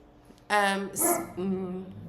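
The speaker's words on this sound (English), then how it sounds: "So, no barking, Looney." A dog gives a couple of short, sharp barks close by, followed by a brief whiny yip.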